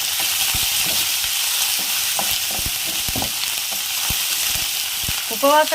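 Green chilies and curry leaves sizzling in hot oil in a pan for upma, a loud continuous frying hiss with soft stirring taps and clinks throughout and a brief voice at the end.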